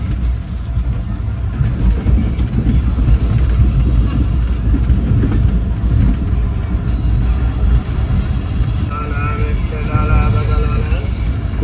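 The Allama Iqbal Express runs at speed on the Lahore line, making a loud, continuous rumble and rattle of wheels and carriage heard from inside a coach, with someone talking over it.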